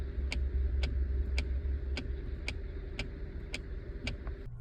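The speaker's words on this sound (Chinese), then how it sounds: "我每次踩刹车怎么都有一个很奇怪的那种咔咔咔的声音" A faulty solenoid valve under the gear knob of a Ford Kuga clicks each time the brake is pressed, a steady run of about nine sharp, evenly spaced ticks over the low hum of the car's idle.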